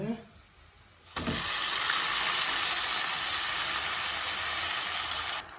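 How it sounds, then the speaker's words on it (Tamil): Chicken meat hits hot oil in a pan, and a loud, steady sizzling roar erupts abruptly after a quiet second, holding for about four seconds before cutting off. "நாங்கள் இதோட இப்போ இறைச்சியை சேர்க்க போகிறோம்."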